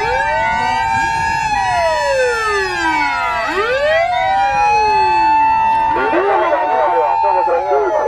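A toy fire engine ambulance wails with an electronic siren, rising and falling sweeps repeating loud and close, with a second warbling tone layered in toward the end.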